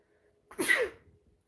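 A single loud, close sneeze bursts out suddenly and fades quickly, alone in an otherwise quiet room.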